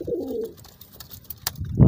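Pigeons coo up close, a low throaty burble at the start, then a quiet pause with faint rustles before another deep coo swells at the end.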